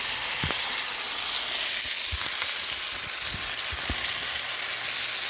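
Floured pork chops sizzle steadily in a hot pan while browning, a constant crackling hiss with occasional soft pops and scrapes, close by.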